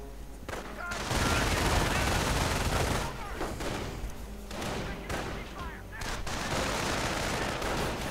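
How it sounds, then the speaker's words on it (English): Rapid rifle and light machine gun fire in a 1v1 Company of Heroes-style strategy video game match, sustained loud bursts and heavy thumps layered densely under a commentator's voice. "Firing away at these riflemen."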